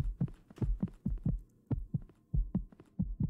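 A loud heartbeat pulses in the horror video game Thirteenth Floor, about seven heavy lub-dub beats in a steady rhythm, close and booming with nothing else heard.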